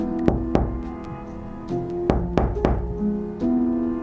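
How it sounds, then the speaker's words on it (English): A few sharp knocks land on a back window, single raps and a quick pair spaced irregularly over a low sustained musical drone, close and fairly loud with no talking. "A soft tap, just once, on the back window."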